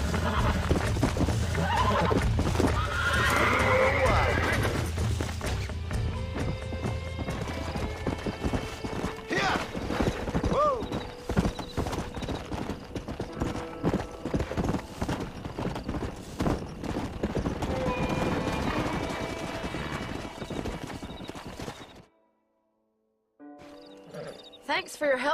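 Hooves clop continuously while a horse whinnies and snorts in Red Dead Redemption, with people speaking over the sounds; the scene briefly goes silent near the end.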